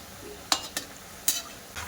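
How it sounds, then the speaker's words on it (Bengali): Semolina snacks frying in hot oil and being turned, with a low background sizzle broken by several short scraping stir sounds close by. "একটু উল্টে পাল্টে একটু লালচে করে ভাজা করে নেবো"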